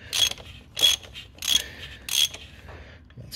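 A ratchet loosening a part during a small service on a 2016 Nissan Qashqai, four distinct bursts of rapid clicking spaced about two-thirds of a second apart, close and crisp, with quiet gaps between.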